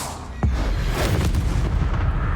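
A Confringo spell strikes in the video game Hogwarts Legacy, a sudden deep boom followed by a rumbling, crackling explosion that rolls on loudly under game ambience.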